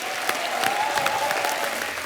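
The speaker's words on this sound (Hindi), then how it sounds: "जोरदार तालियां सलमान के लिए" A studio audience on The Kapil Sharma Show, a televised comedy program, gives steady, dense applause to welcome a guest, with an even level throughout and faint crowd noise mixed in.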